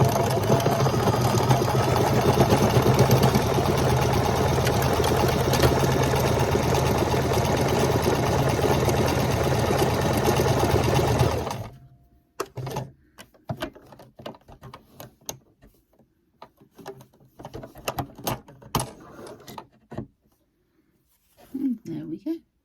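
Sewing machine stitching a practice buttonhole, running as a steady loud mechanical whir for about eleven seconds, then stopping abruptly, followed by scattered quiet handling clicks and faint voice.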